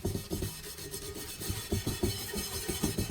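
Scrubbing at a burnt cooking pot coated with applesauce, a steady rough rasping scrape repeated in quick strokes, close and continuous throughout.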